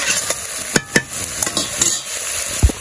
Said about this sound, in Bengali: তো আমি সবজিটা কষাইতে থাকি, তারপরে কষানো হয়ে গেলে জল দিয়ে দিব।